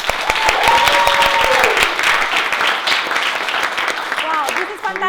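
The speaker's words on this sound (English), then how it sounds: "let's give a big round of applause." Applause from a room full of people at a Harvard Extension keynote, with brisk, steady clapping mixed with a few shouts, easing slightly toward the end.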